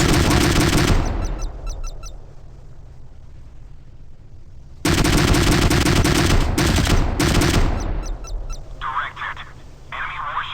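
Warship cannon firing in the naval combat game Modern Warships, heavy booming bursts with rapid repeated shots, loud and close, interspersed with quieter game background and brief electronic tones.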